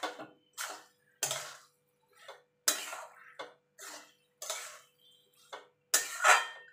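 A pan of banana flower curry with prawns being stirred and mixed, giving a series of distinct clattering scrapes and knocks of a spoon against the pan, spaced irregularly, fairly close.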